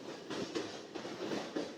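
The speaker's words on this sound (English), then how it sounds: "now you are able to hear the sound of the train" A train crosses a bridge, rumbling and clattering in soft, rhythmic bursts heard from inside the carriage, with no voices.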